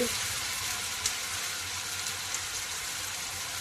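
Ginger-garlic masala paste fries in a pan with a steady, even hiss of sizzling oil, continuous and close, with a couple of faint clicks and no talking.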